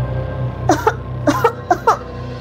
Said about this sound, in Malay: Acu terbatuk dengan kuatnya.